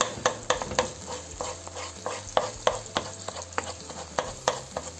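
Beaten eggs frying in a pan as an omelette sizzle softly under repeated scraping and tapping of a utensil against the pan, an uneven rhythm of close clicks over a steady hiss, with no voices.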